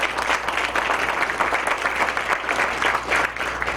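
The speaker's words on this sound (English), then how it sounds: "Let's give them another round of applause" Steady crowd applause at a city groundbreaking ceremony, dense and even throughout, fairly close with no voices standing out.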